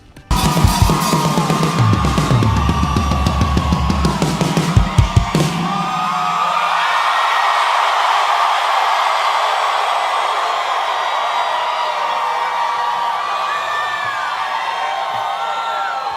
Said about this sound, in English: you hear the crowd in the background just going nuts for a good 20 seconds